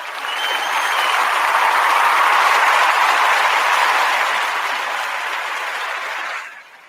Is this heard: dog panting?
no